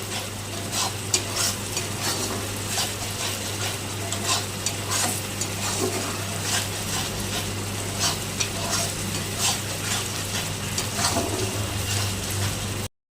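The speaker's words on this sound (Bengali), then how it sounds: "এটা হালকা অল্প ভেজে নিতে হবে।" Turmeric fries lightly with salt in a pan for hilsa curry, giving a continuous sizzle with steady stirring and utensil scraping against a low mains hum and no talk.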